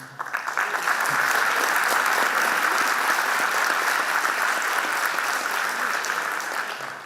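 Sustained applause from a live audience at a talk greets a speaker, starting with a few scattered claps and swelling into dense, steady clapping that holds for several seconds before tapering slightly at the end.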